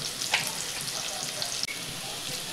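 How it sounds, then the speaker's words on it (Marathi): Onion fries in a pan for a spicy liver masala, a soft and even sizzle throughout, broken by a faint clink near the middle. "हा कांदा चांगला परतून घेते"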